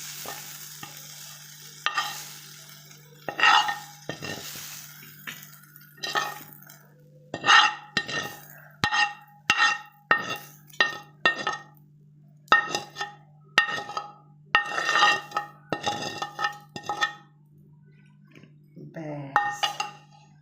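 Fried onions are scooped from a pan onto a big plate, with a quiet fry and repeated scrapes and clinks of a spoon against metal and the plate, some close and sharp, in a kitchen.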